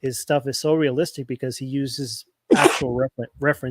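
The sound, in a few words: sneeze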